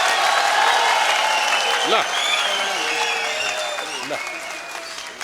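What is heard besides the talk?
loud applause at swearing-in ceremony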